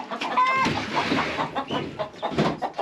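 Hens clucking inside a chicken coop on a homestead farm, several close birds making overlapping throaty clucks and short calls in an uneven stream, no talk.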